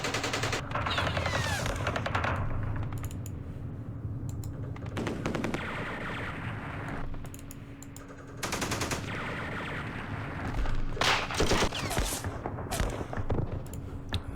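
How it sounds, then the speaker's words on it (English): Gunfire in the Vietnam War strategy game Campaign Series Vietnam, set at the 1968 Battle of Ba Ria, crackles in repeated bursts of rapid shots and rattling volleys, with brief lulls and faint clicking between them. "Let's do some firing."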